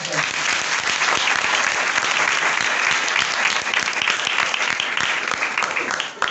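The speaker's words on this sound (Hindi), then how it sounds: "आज खुदा के कलाम के लिए जोरदार तालियां करें।" A church congregation at a Christmas service breaks into loud, sustained applause that fills the room evenly and keeps going without a break, fading slightly only at the very end.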